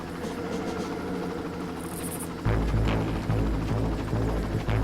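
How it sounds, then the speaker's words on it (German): A helicopter in the Far Cry video game thrums with a steady low rotor drone that suddenly grows louder and heavier halfway through, with no voices. "Und da ist schon wieder so ein verdammter Hubschrauber."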